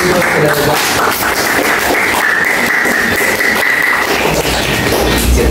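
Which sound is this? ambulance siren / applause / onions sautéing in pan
applause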